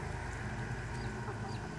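A flock of backyard hens clucking continuously at close range, a dense steady murmur of low calls with no talking over it.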